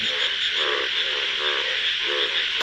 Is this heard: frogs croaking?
yes